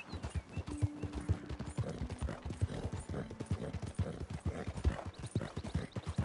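Horse hooves galloping in Red Dead Redemption II, a steady rapid clip-clop of hoofbeats close by with occasional mechanical creaks and a faint whinny underneath.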